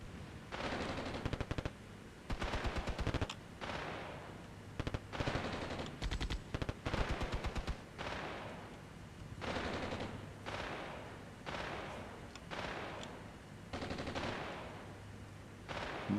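Enemy gunfire in the wargame Armored Brigade II, repeated machine-gun bursts in regular clusters of rapid shots, each burst distinct and fairly loud against a steady low battlefield rumble.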